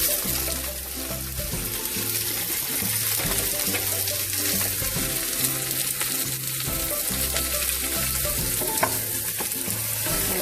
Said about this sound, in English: So while the onions is sizzling, I'm gonna add some black pepper.